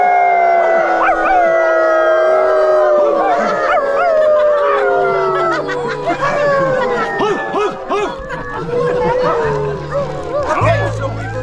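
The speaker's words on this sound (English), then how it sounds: "There's no wrong place to howl." An audience howls along to a song arranged as howling jazz, with many overlapping rising and falling howls and yips filling the air loudly and steadily over music.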